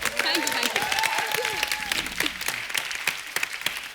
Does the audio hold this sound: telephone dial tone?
no